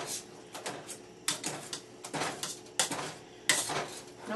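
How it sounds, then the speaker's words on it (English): Sugar being mashed into applesauce cooking in a pot: irregular clacks and scrapes of a masher against the pot, a few sharper knocks spread across a quiet background. "then you mash that in"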